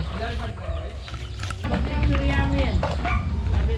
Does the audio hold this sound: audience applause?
no